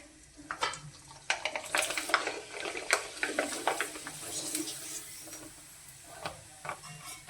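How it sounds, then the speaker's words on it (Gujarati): Potato and sago papad fry in hot oil, giving soft intermittent sizzles mixed with clinks and scrapes of a utensil against the pan, close up and fairly quiet, with occasional stirring sounds. "હવે આપણે એમાં પાપડ તળી લેવાનો છે।"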